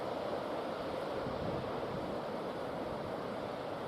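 Ocean surf rolls in steadily on the Cornwall coast, a continuous broad wash of breaking waves with some wind noise, loud and close, with no voices.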